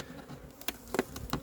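Honey bees buzz inside a hive in a short stretch of close, steady humming, with a few brief louder clicks and bumps from the hive being handled.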